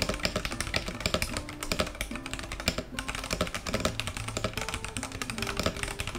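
Mechanical keyboard with red backlighting being typed on, a fast continuous run of crisp clacky keystrokes close to the microphone, with irregular rhythm and brief pauses, no voices.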